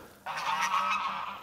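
A farm goose gives one drawn-out, nasal honk, close and fairly loud, ringing for about a second against a quiet yard.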